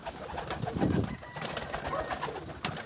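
Pigeons coo in a dim loft holding around 180 birds, newly bought birds among them, with several soft, low rolling coos that overlap near the mic over a constant rustling background. Nobody speaks.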